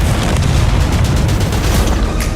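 A tank gun firing in the World of Tanks video game, a loud continuous rumbling boom of heavy gunfire and explosions filling the whole stretch with no pauses.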